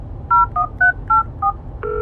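Telephone keypad tones are dialed one after another, six clear, steady beeps at a brisk, even pace, loud and close with nothing else over them.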